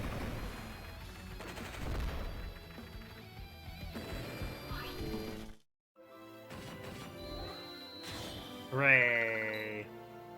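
An anti-tank unit attacks in the video game Advance Wars: Days of Ruin, a rapid clatter of gunfire and crashing hits over game music, briefly cut to silence before a bright jingle rises.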